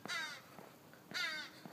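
Crows give two harsh caws about a second apart in a lakeside town along a bike course, faint and somewhat distant, with quiet pauses between calls.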